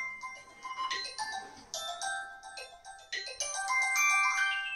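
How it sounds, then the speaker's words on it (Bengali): A phone ringtone plays for an incoming call, a bright repeating electronic melody of short tonal phrases, fairly close and clear over a quiet room. "এই দেখো কে ফোন করছে।"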